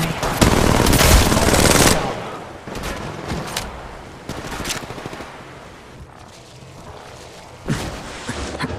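Gunfire in the mobile game Apex Legends Mobile: a loud, dense automatic burst in the first two seconds, then scattered single shots and shorter bursts that grow fainter, with a final sharp volley near the end.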